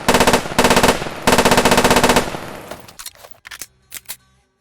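Modded video game weapons fire in loud rapid machine-gun bursts, three long streams followed by a few short separated shots trailing into silence.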